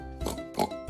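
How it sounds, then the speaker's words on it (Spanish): A pig gives a few short, soft oinks and grunts in quick succession, nearby and without talking. "El cerdo."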